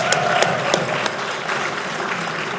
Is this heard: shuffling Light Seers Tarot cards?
no